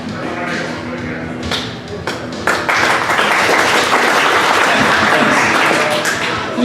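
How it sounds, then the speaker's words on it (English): Audience at a luncheon at a Buffalo Wild Wings restaurant clapping, light applause that swells into a fuller, sustained round of claps. "Thanks for the charity clap."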